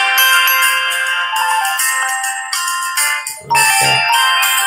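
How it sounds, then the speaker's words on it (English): Mobile phone ringtone playing a bright repeating melodic tune, loud and close, cut off near the end by a few low thumps as the phone is handled. "oh, that's my phone, one moment."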